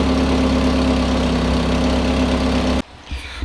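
A Mazda Miata engine idles steadily with a low, even hum and faint vibration, close and alone, until it cuts off abruptly near the end, leaving a quiet room with a few small knocks.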